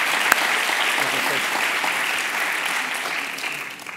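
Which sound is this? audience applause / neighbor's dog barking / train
audience applause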